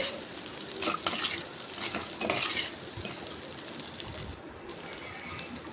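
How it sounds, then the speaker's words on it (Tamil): Chopped long beans sauté in a pan with popped cumin seeds, a steady soft sizzle broken by a few clinks and scrapes of a spoon stirring against the pan. "இப்போ காராமணி நல்லா வதங்கட்டும்."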